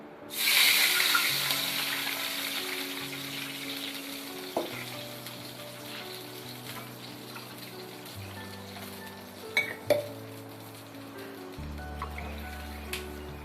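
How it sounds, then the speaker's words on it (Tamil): Water pours from a cup into a hot pan for rava kesari, starting with a bright splashing sizzle that gradually fades into softer bubbling, with a few light clinks along the way. "இப்போ 1 கப்பு தண்ணி, அடுத்து இன்னொரு கப்பு தண்ணி ஊற்றிக்கலாம்"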